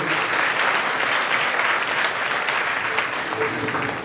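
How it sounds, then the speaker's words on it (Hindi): A crowd claps loudly and steadily throughout, a dense, even applause that never pauses, at a Shiv Mahapuran religious discourse gathering. "जोर से तालियां बजाएंगे"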